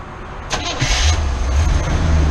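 A 1976 Corvette engine cranks and catches after sitting unstarted for two weeks, then settles into a low, rumbling idle, loud and close.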